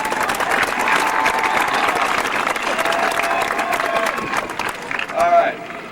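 A crowd at a 1996 high school graduation ceremony claps hands in sustained, dense applause with scattered voices mixed in, fading slightly near the end as a voice rises over it.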